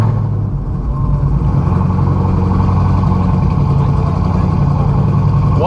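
A Dodge Challenger Hellcat V8 rumbles loud and close in a steady deep idle after starting, with a thick low-end drone that holds evenly throughout.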